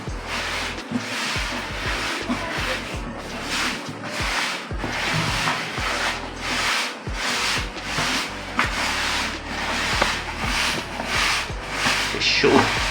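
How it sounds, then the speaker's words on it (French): A homemade OMO detergent mixture is stirred in a regular, rhythmic scraping and swishing pattern that repeats about once a second, close by and fairly loud. "On mélange très bien."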